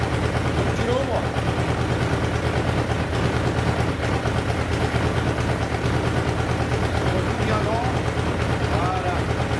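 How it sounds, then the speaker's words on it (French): A Suzuki GSX-F 1100 motorcycle engine idles steadily at about 1000 rpm, a continuous low throbbing rumble held close and even throughout, with a voice speaking over it at times. "on est au ralenti et on est à 1000 tours"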